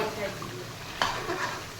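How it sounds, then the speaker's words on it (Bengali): Mutton sizzles softly in a pan while a utensil stirs it, with one sharper scrape near the middle. "এই যে এখানে মটনটা কষাচ্ছি"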